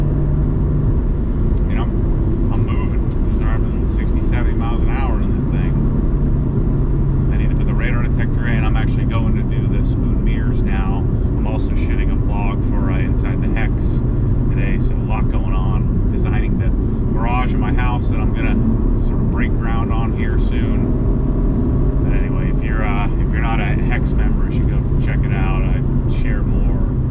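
A modified Honda Civic cruising at highway speed, around 60 to 70 mph, with a steady engine drone and road roar throughout while someone talks over it.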